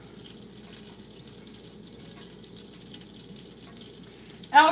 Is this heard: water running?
yes